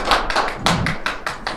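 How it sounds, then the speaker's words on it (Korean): An audience applauds to welcome a lecturer at a public citizens' academy lecture in Jinju, with dense, steady clapping from a moderate-sized crowd for a short stretch, with no talk over it. "박수로 청했으면 좋겠습니다"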